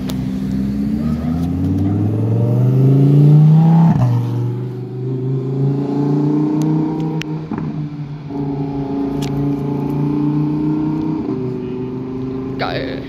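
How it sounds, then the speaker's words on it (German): A Lamborghini Huracan Performante with a tuning spoiler driving into a hotel forecourt, its deep, loud engine droning close by and rising and falling in pitch through several gear changes, while people talk over it. "Es ist ein ganz was tiefes. Huracan Performante wahrscheinlich."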